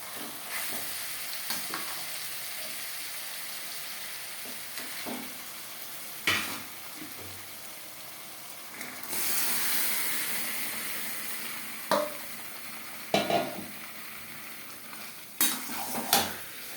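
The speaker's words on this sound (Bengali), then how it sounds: "এক দু মিনিট নাড়াচাড়া করে নেওয়ার পর দিয়ে দেবো ম্যারিনেট করে রাখা চিকেন" Marinated chicken frying with onion and mashed tomato for aloo chicken kasha, a low sizzle broken by occasional spatula scrapes and clanks against the pot, with a louder burst of hissing partway through.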